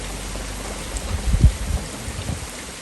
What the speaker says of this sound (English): Sunday afternoon, peeing down with rain.